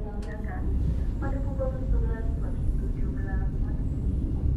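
Steady low rumble of the KA Gajahwong economy train running on the rails after leaving Cirebon Prujakan station, with continuous loud wheel and carriage noise throughout and faint talk mixed in.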